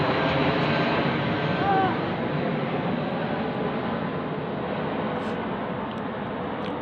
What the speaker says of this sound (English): a plane going over as I say it